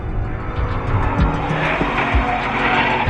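A supercharged Chevrolet Camaro ZL1 and a naturally aspirated Ford Mustang Boss 302 race on the track at Laguna Seca, with loud engine roar and sustained, wavering tire squeal as the cars push hard through a corner.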